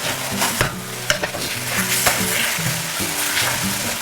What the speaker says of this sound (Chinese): 最后放回洋葱和葱叶，